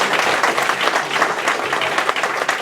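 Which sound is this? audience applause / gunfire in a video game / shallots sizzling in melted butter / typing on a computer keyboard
audience applause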